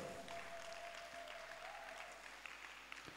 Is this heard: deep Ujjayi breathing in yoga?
no